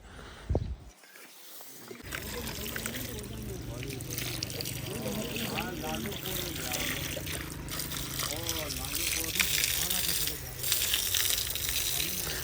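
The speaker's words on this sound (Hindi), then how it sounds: "मैंने कहा आप पंप चला दे, मैं पानी वगैरह लगा देता हूँ।" Water from a pump pours and splashes onto a traditional mud house wall in a steady running stream, with a few clinks and a person talking nearby over the flow.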